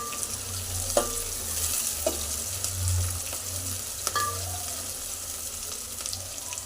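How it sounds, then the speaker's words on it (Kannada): Chopped mint fries in a pan for chicken curry, a constant sizzle with a low hum beneath and occasional scraping stirs, close and fairly loud. "ಪುದೀನ ಹಾಕ್ಬಿಟ್ಟು ಸ್ವಲ್ಪ ಫ್ರೈ ಮಾಡ್ಕೋಬೇಕು"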